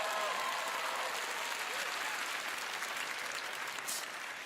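A theater audience at a magic show bursts into applause, a broad, steady rush of many hands clapping at moderate loudness, with a few faint voices and a brief bright sound near the end.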